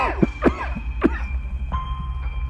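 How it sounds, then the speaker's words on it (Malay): A person coughs several times in quick, rough bursts, close by, with a faint background hum. "kedengaran suara orang batuk"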